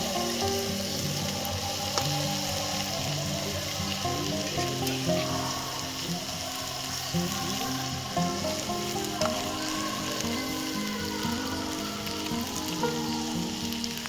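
Ground black pepper and other spices frying in a hot pan for a crab jungli pulao, a steady close sizzle with faint crackle and occasional stirring, no voices.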